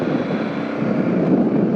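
Steady wind roaring across the microphone on choppy water at Wineglass Bay, a continuous broadband rush with low buffeting, no voices.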